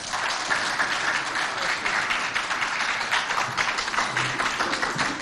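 Applause from an audience at a school awards event in Moundou, a dense, steady wash of clapping hands that fills the whole stretch without a break.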